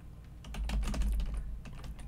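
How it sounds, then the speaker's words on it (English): Quick, steady typing on a computer keyboard, with a burst of close, light key clicks in a brief run and no speech. "we could just type it out like this"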